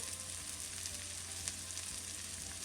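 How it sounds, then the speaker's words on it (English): Peppers fry in a pan with two tablespoons of butter just added, making a soft, continuous sizzle and crackle at low volume with faint occasional pops, and no talking over it. "The peppers have been cooking for about 2 minutes. I'm going to add my 2 tablespoons of butter."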